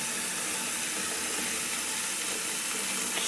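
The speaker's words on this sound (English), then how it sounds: "So with the cold water running" Cold tap water runs steadily into a pot in a kitchen sink while hard-boiled eggs cool, a constant bright rushing hiss with no pauses and no voices.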